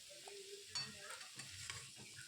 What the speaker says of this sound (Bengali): এরপর ভালো করে কষাতে থাকবো।